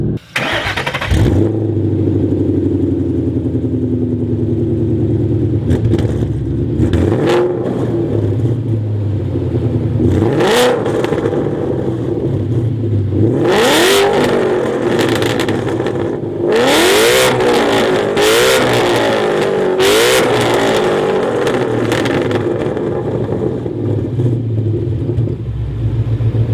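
Ford Mustang Boss 302 V8 revving through its side exhaust, a loud close rumbling idle that breaks into repeated sharp throttle blips and rising revs, continuous throughout with no talking.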